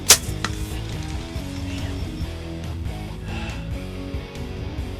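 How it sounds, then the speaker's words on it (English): A hunting arrow striking a game animal with a hard, rock-like whop, a sharp loud impact at the start followed by outdoor ambience and faint rustling, with no voices. "Sound like an arrow that hit a rock, man."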